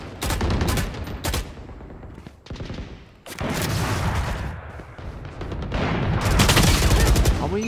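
Rapid gunfire from a Blastx Phantom rifle in Valorant, long loud bursts with brief pauses between them, filling the whole stretch up close.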